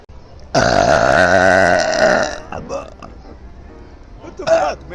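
A long, loud, deep burp lasting about two seconds bursts out close up, followed by people talking and reacting.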